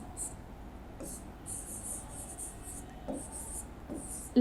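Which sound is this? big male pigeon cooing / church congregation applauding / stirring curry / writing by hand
writing by hand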